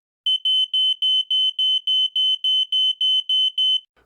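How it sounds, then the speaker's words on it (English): A smoke detector alarm going off, a rapid series of about a dozen sharp, piercing high beeps in an even rhythm, loud and close with nothing else behind it. "If my smoke or carbon monoxide detector goes off, Todd, what should I do?"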